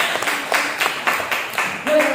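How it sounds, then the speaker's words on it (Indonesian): Students clap in a fifth-grade classroom, a short run of loud, evenly spaced claps roughly four per second, with voices murmuring beneath. "Tepuk tangan untuk Bapak Satrio."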